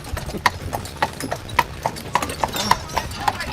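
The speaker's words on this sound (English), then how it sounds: "this carriage is stopping for us right now because horses going uphill always have the right of way" Horse hooves clip-clop in a steady rhythm as a carriage is pulled uphill on Mackinac Island, the sharp regular hoofbeats close and clear over street ambience, with people talking faintly in the background.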